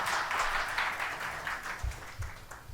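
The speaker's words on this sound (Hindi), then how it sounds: "तो एक बार पापा के लिए आप लोग सब लोग बहुत जोरदार तालियां बजाएं।" Audience applause at a teachers' felicitation event, a dense steady patter of many hands clapping at moderate distance, continuing throughout with a few louder low thumps near the end.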